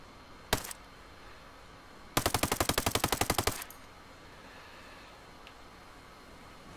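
Suppressed full-auto rifle fire from an M4 or 416 in the Ghost Recon Breakpoint video game: a single sharp shot, then a rapid burst of about fifteen evenly spaced rounds lasting over a second, loud against a quiet background.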